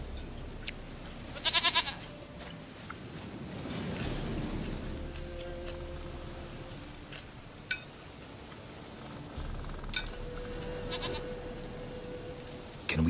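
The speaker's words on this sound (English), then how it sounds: "Goat of mine, dearest, sweetest goat." A goat in The Witcher 3 gives several distinct bleats spread apart, moderately close, over quiet game ambience with a few clinks, and no talking.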